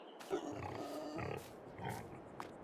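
Pigs grunting on a farm in the video game Farming Simulator 22, a few low snorting grunts rising and falling in a loose series at moderate loudness.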